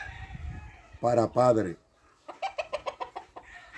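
Gallino gamecock roosters, a hen-feathered breed, kept for breeding: a loud drawn-out crowing call, then a quick run of short clucks, close by, with a voice briefly speaking.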